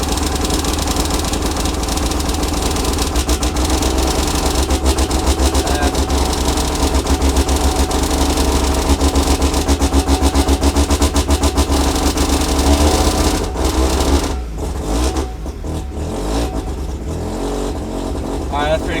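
A Mazda RX-7 FC rotary engine runs loud and steady while its Link ECU is tuned, a continuous close drone with throttle blips and revving, thinning out toward the end.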